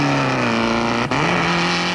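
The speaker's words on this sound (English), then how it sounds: "it's left to keen amateurs to run a last road race at the World's Fair in New York" Race cars in an archival road race at the World's Fair in New York, a steady loud engine drone with a brief dip midway as a car roars past, heard on old, hissy film sound.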